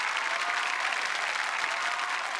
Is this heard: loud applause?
yes